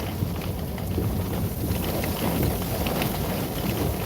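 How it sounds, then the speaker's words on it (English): Heavy rain pours steadily during a severe Oklahoma thunderstorm, a dense, loud, unbroken wash of noise as if drumming on a car during storm chasing. "The rain's actually pulling away from the car and headed into the storm."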